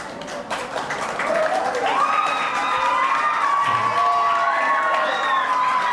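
Junior high school students at a trip briefing in Yogyakarta shout and cheer together, a loud crowd of youthful voices rising in excited, overlapping whoops with some clapping mixed in.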